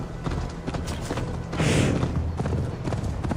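Hooves of a horse in the video game Assassin's Creed Valhalla clatter in a quick galloping rhythm, close and steady, with a swelling whoosh of noise midway through.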